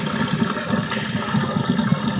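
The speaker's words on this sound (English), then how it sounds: "There go, the dishwasher fills out." A Hotpoint dishwasher fills with water, giving a steady, close rushing and gurgling of water flowing into the machine, with no talk.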